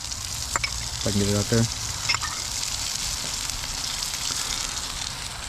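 Butter and sausage frying on a hot breakfast griddle, a steady close hiss and crackle running throughout, with someone speaking briefly over it.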